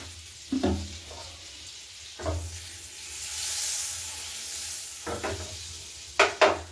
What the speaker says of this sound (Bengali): বাটারটা একটু গরম হোক।